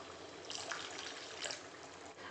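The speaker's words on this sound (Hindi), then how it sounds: "अब इसमें मैं 2 चम्मच पानी डाल रही हूँ।" A small splash of water, two spoonfuls, poured into simmering paneer korma gravy with curd and spices in a home kitchen, a faint, soft trickling wash with no voices.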